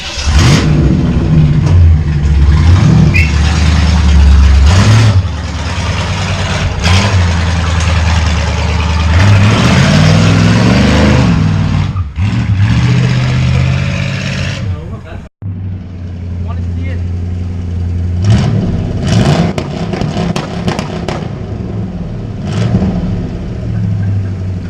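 A truck engine with its mufflers cut off roars close and loud, revving repeatedly in surges and settling between them, while people talk over the noise.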